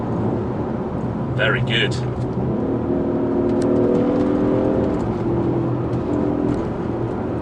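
A 2017 Audi SQ5 with a 345PS petrol V6 is heard from inside the car as the engine drones and shifts pitch through downshifts. Road rumble runs steadily underneath, and a person says a brief word.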